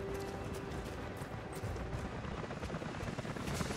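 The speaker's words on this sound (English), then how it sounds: "helicopters are headed your way." Helicopters in the video game Rise of the Tomb Raider give a steady rotor thrum that stays constant and fairly loud throughout, with faint clatter mixed in.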